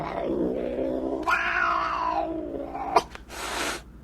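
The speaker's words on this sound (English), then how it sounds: "Why is the cat so frightened of that little doll?" A frightened cat, named Toby, yowling and caterwauling in a long rising and falling wail, followed by a short hiss and rustle, close and fairly loud.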